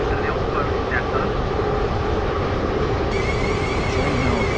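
A train in the Stepford County Railway game runs on approaching Bowden station, giving a steady, loud broadband rumble with a faint higher tone entering partway through, and no voices over it.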